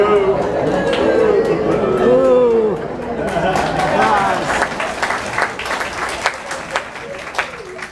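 An audience breaks into applause that rises, then thins into scattered clapping and murmuring crowd noise, with a voice talking over the start.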